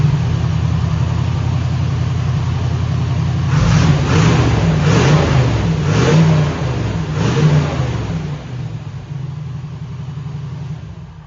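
A 1962 Corvette engine runs steadily with a low hum, rising in a few rhythmic revs mid-way before settling back to a smooth idle, with no dieseling.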